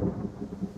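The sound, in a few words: thunder in video game The Forest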